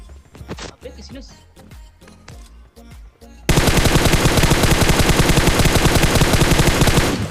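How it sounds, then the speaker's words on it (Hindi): Rifle fire from a battle-royale shooter video game, a Kar98 bolt-action among it: a few sharp isolated shots and voice-like sounds at first, then a loud, dense, continuous rapid burst of automatic gunfire through the second half. "तभी राइट वाले हिल से एक बंदा कार 98 का शॉट लेता है"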